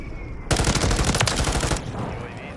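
A called-in strike in Call of Duty Modern Warfare III lands as a sudden loud burst of rapid automatic gunfire lasting just over a second, then fades into a lingering rumble.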